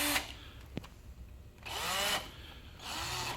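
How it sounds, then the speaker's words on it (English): A power drill whirs in two short bursts while pre-drilling a hole for an outside-mount window shade, its motor pitch sweeping as it spins up and slows, with quieter handling noises before. "but pre-drill your hole"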